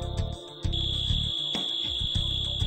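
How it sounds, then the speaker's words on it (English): An FM200 fire suppression system alarm sounds a piercing, steady high tone over a pulsing lower horn pattern, loud and continuous throughout, as its pre-discharge countdown begins. "The system sounds a second alarm"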